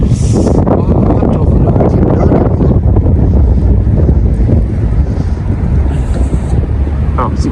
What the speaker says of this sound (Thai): ลมพัดซอย